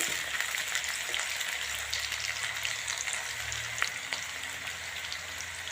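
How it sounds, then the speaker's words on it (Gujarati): Onions and garlic fry in hot oil until pink, giving a continuous dense sizzle close up with a few faint stirring knocks and no voices. "ડુંગળીને બહુ જ મસ્ત મજાની એકદમ પિંક કલરની કરવાની છે"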